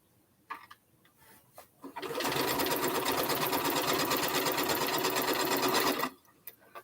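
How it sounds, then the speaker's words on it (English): A sewing machine runs steadily for about four seconds, assembly-line stitching pieces for a double wedding ring quilt, a close continuous whir with brief handling clicks before and after. "I'm gonna go ahead and assembly line sew them."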